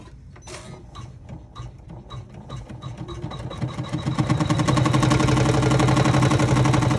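A sewing machine stitches steadily through a thick layer of a bag, its rapid mechanical chatter starting moderate and building to a louder, faster continuous run near the end.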